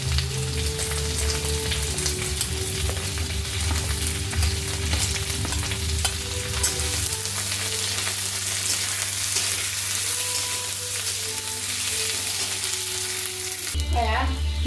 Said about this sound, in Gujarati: લીલા મરચાં નાખીશું અને ડુંગળી નાખીને સાતળી લઈશ.